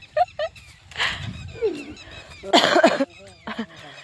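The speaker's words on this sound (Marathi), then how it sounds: "खोकला पण खूप यायला आहे" Several short, harsh coughs come in bursts with pauses between them, close and fairly loud, one longer rough burst in the middle.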